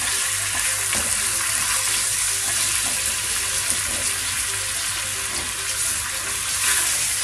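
Steak browning in a hot pan, a steady close sizzle and hiss of frying meat running evenly throughout with no talk over it.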